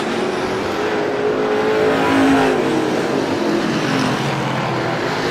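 Race cars circling the Star Speedway oval during a Strictly Feature, including the 22X car, roar together in a dense, continuous engine drone that swells slightly mid-pass and stays loud throughout, with no talk.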